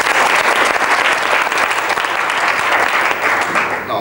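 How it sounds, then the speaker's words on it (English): A seminar audience applauds with loud, dense clapping that holds steady throughout and only begins to thin at the very end. "Ladies and gentlemen, may I borrow your applause for them?"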